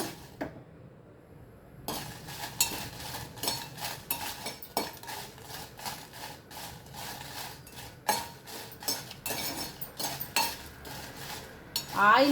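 Ingredients frying in a pan for tomato chutney, with metal utensil clinks and scrapes against the pan over a low sizzle, irregular stirring strokes close by, no speech.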